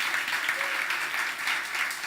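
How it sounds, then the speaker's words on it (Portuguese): Church congregation applauding together, a steady dense wash of clapping close and loud throughout, with a faint voice underneath. "Se é para Jesus, pode ser mais bonito esse aplauso."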